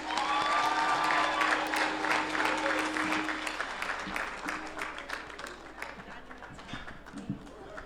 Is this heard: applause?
yes